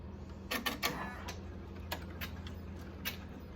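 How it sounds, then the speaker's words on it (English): An embroidery machine stitches a hat design at 700 stitches per minute, making a steady low mechanical hum broken by quick, sharp ticking clicks. "Mine is set at 700 SPM, which is stitches per minute."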